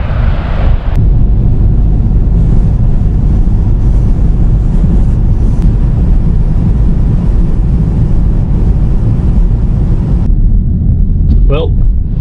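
Strong wind roars and buffets across a bouncing bridge over moving water in western Minnesota, a loud, steady rumble that holds almost unbroken, then drops away near the end as a brief faint chirp sounds.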